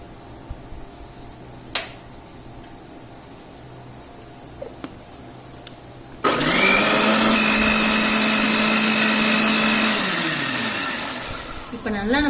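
A mixer grinder blending green chutney with yogurt: after a quiet stretch with a few clicks, a loud, steady high-pitched whir starts abruptly, runs for about four seconds, then winds down as the motor slows.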